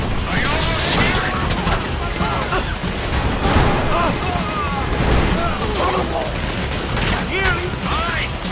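Gunfire in GTA V during a heist mission, heard as dense, loud, repeated bursts and crashes of shots over chaotic game action, with people talking over it.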